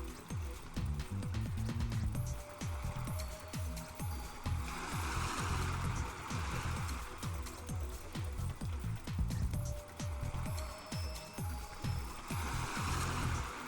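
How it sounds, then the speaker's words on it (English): Ocean waves in the video game Robotics;Notes Elite while paddling a surfboard, a soft rolling wash of surf and gurgling water under a rhythmic electronic music track, continuous and fairly quiet. "I paddle in the direction the waves are heading."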